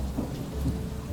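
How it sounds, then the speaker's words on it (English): Rain pours steadily during a thunderstorm, with a low rolling rumble of thunder beneath the dense hiss, heard briefly and fairly close. "there's a thunderstorm happening now."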